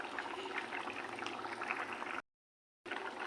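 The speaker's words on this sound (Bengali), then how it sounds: "বন্ধুরা দেখো, ঝোলটা ফুটে উঠেছে।" Hilsa fish curry broth bubbles at a boil in a pot, a soft continuous gurgle of liquid that cuts out abruptly for a moment before resuming.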